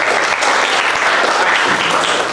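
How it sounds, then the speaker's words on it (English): Audience applause at an improv comedy show, a dense, steady wash of clapping from a crowd that stays loud and sustained throughout without a break. "Give yourselves a big round of applause."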